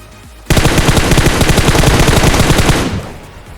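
Rapid automatic gunfire from a battle royale video game, a loud sustained burst of closely spaced shots lasting over two seconds before cutting off, heard alone with no talking.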